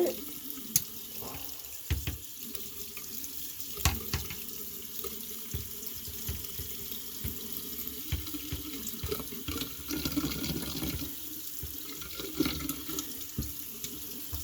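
Tap water runs steadily into a sink, rinsing cherry tomato seed pulp down the drain, with a continuous splashing wash and occasional louder knocks and splashes from handling, close by and without talk.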